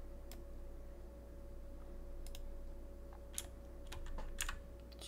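Scattered computer keyboard key presses during work in Blender 2.83, a few isolated clicks and short bursts, soft and close over a steady low electrical hum.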